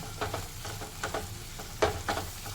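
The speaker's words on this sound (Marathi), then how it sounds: "कांदा टॅमॅटो व्यवस्थित शिजायला पाहिजे पटकन" Chopped onion and tomato fry in a pan over high heat while being stirred for corn-grit upma, giving a low steady sizzle broken by soft scraping and clatter of the spoon, fairly quiet and without talking.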